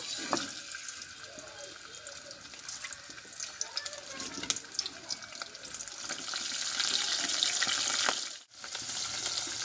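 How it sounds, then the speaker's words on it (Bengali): A katla fish head rubbed with salt and turmeric fries in white oil, producing a continuous loud hiss and crackle up close that swells toward the end, with a brief dropout. "মাছের মাথাটা আমি লবণ হলুদ মাখিয়ে নিয়েছি, ভেজে নেব"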